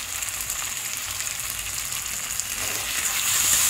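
Potatoes sautéing with cumin, ginger and stone-ground green chilli paste give off a steady, close hiss of sizzling oil that swells slightly toward the end, with no voices.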